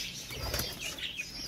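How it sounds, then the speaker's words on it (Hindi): A brief flurry of wings flapping close by, a quick papery fluttering burst from pigeons, with no voices. "यहाँ के खूबसूरत परिंदे"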